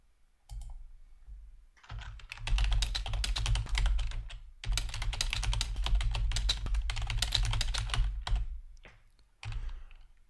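Typing on a computer keyboard while writing a news story, close, crisp rapid key clicks in several bursts separated by short pauses, ending with a few isolated taps.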